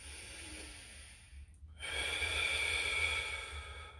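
Deep breathing during a static stretch with a stick or pole: a soft breath, a brief pause, then a longer, louder airy inhale or exhale, close and alone with no talk.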